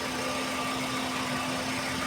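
A car engine idles steadily during a charging system test, a constant mid-pitched hum with a faint vibrating drone and no speech.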